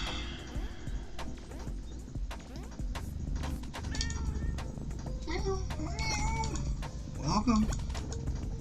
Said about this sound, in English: The big cat.